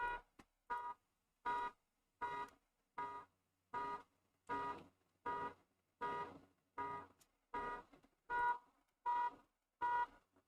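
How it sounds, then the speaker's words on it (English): A car alarm sounds outside, a loud, steady series of about fifteen evenly spaced electronic blasts, each a harsh tone lasting roughly half a second with short gaps between them. "the alarm's going off."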